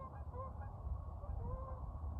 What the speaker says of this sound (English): 2 more geese.